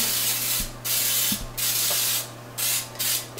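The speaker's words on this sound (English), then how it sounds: "You spray that pan lightly" Several short hissing bursts of flour-containing baking spray lightly coating a cake pan, close and loud, separated by brief pauses over a steady low hum.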